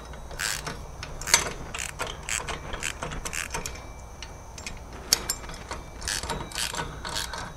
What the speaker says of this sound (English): put your ratchet on